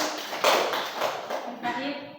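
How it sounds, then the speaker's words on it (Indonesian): A small group of students gives brief, scattered clapping after a classroom group presentation. The claps are fairly faint and fade quickly, with voices speaking over them. "tepuk tangan buat"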